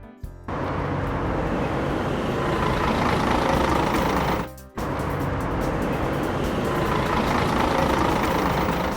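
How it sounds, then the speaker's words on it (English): Animated log truck engine running in a steady, loud rumble, briefly dropping out midway before resuming, with no talk. "Log truck."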